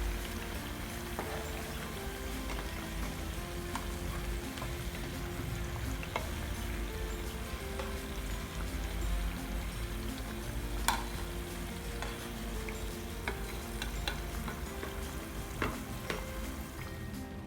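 Battered Nendran banana bajji fry in hot oil, giving a steady, close sizzling with soft bubbling and occasional light stirring clicks, with no talking.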